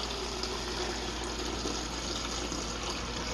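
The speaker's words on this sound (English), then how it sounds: "so we're just gonna keep running the water until it's completely clear" Water runs steadily from an LG refrigerator's dispenser after a new filter is fitted, a constant close gushing stream with no pauses and no talking.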